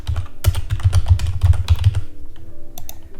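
Quick, close clicking of a computer keyboard as a short title is typed, a dense run of keystrokes for about two seconds followed by a few scattered taps.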